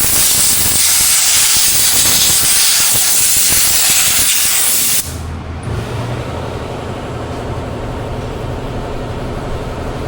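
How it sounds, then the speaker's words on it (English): A loud, close blast of hissing air dries brake cleaner off parts on a Ford 2.7 EcoBoost axle during a blown seal repair. The blast holds steady for about five seconds, then cuts off, leaving quieter background noise. "Let's dry off that brake clean"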